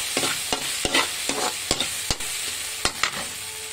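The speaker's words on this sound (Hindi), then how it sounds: "दो चम्मच हमने टमाटो कैचअप ऐड कर दिया है इसे मैं मिक्स कर लेती हूँ" A spoon stirs tomato ketchup into the sauce for honey chilli potato in a pan, sharp repeated scrapes and clicks at an uneven rhythm over a low sizzle, close and clear with no voices.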